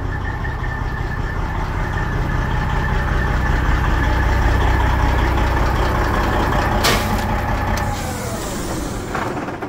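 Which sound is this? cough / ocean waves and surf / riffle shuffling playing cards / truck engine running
truck engine running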